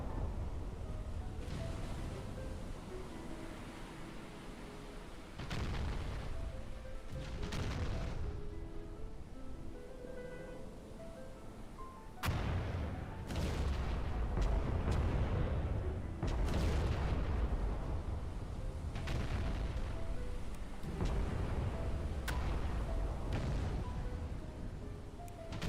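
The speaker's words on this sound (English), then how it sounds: "We're gonna watch our big turrets fire off to the right." Big battleship turrets firing salvos in the Battleship Command naval video game, a series of deep booming blasts with rumbling tails, several spaced shots over about twenty-five seconds, loud and unmasked by talk.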